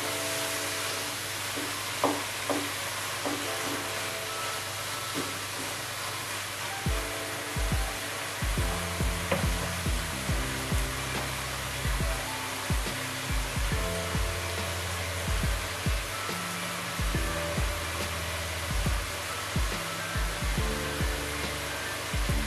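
Squid cooks in sambal belacan in a pan, making a loud, continuous sizzle and hiss that runs throughout, with repeated stirring scrapes and clatters joining partway through.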